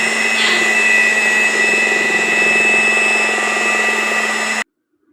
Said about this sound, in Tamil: நல்லா கலந்து விட்டதுக்கப்புறம் இப்போ நம்ம வந்து பீட் பண்ணிக்கலாம் ஒரு ஃபைவ் நிமிட்ஸ் நல்லா இந்த மாதிரி பிளெண்டர் வச்சு பீட் பண்ணிக்கலாம்